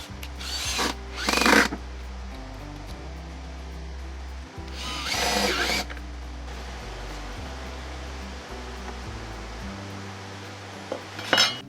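Pocket holes being drilled into wood for a table saw workbench, heard as a few short, close whirring bursts of a power drill separated by a steady low hum and occasional clinks.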